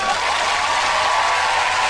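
Dense audience applause and clapping fill the space at a steady, loud level, a broad wash of many hands with no breaks, following a live looping vocal performance.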